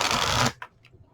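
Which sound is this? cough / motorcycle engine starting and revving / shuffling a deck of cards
shuffling a deck of cards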